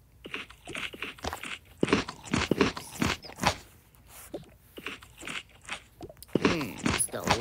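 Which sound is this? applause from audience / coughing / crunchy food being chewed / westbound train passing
crunchy food being chewed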